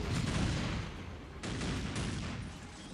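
Triple autocannons fire in a Dawn of War Unification battle: dense, rapid bursts of heavy gunfire, loud and continuous, with a brief break before the barrage resumes.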